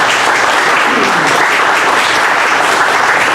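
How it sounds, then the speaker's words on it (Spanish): A crowd applauds loudly and steadily, dense clapping sustained throughout before cutting off at the end. "Pido un aplauso para Rafael Cancel Miranda"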